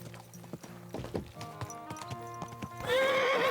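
Horse hooves clip-clop through a medieval game world in Kingdom Come: Deliverance II, building to a loud, close whinny at the end, with a voice speaking calmly to the horse early on.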